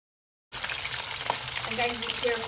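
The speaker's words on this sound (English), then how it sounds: "So I'm gonna start frying the Hassa." Silence, then a sudden steady sizzle of hassa (armored catfish) frying in hot oil on an outdoor stove, crackling and popping continuously at close range.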